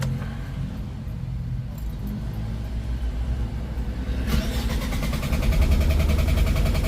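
A Mitsubishi L300 FB Euro 4 (2024) with a 4N14 diesel engine cranks after running out of fuel, then catches and settles into a louder, steady running rumble. Keys rattle near the start.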